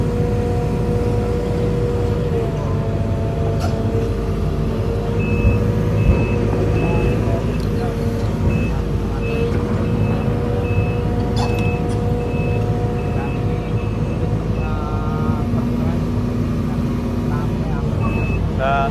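A heavy vehicle maneuvers at a demolition site clearing a building-materials shop, its engine rumbling steadily while a reversing beep repeats intermittently, with occasional clanks and people talking nearby.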